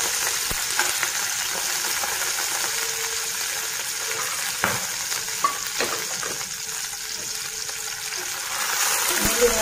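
Garlic and bay leaves frying in oil in a pan, a dense steady sizzle heard up close for several seconds with occasional clicks of a spoon against the pan.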